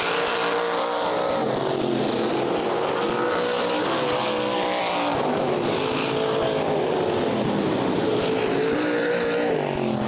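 Sprint-style race cars roaring around the Fremont Speedway dirt oval during a heat race finish, several engines screaming loud and continuous, rising and falling as they pass out of the final turn.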